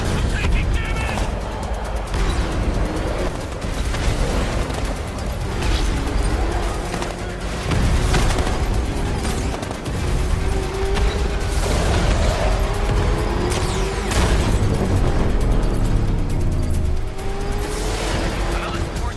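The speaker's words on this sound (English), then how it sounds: "Enemy engaging. Taking enemy fire." Rapid gunfire and mechanical clatter ring out during combat in the video game Batman: Arkham Knight, with dense, overlapping bursts over a continuous vehicle rumble. Game voices are heard in the mix.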